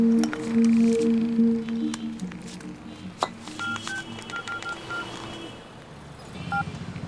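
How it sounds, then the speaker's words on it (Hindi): A phone's dial tone hums, then a series of short electronic keypad beeps sounds in an irregular sequence, clear and close. "लड़कों को फोन लगा।"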